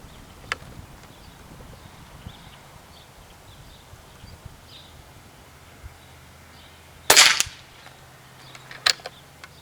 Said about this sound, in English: Now we're up to the 32 grain slug. 5 shots, 50 yards again.